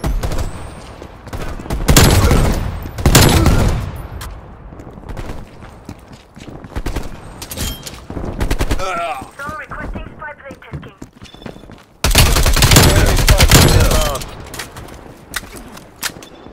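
Heavy hand cannon gunfire from Call of Duty Black Ops Cold War, loud repeated blasts in bursts with sharp echoing tails, alongside other game effects and brief radio-style chatter.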